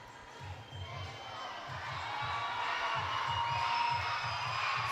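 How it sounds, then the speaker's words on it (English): Crowd of fans cheering at an indoor arena during a 3BL three-on-three basketball game between Bangalore and Kochi in Mumbai, a steady broad roar that swells slightly, with a rhythmic low thumping like a ball bouncing beneath it. "Fans both sides cheering their respective teams."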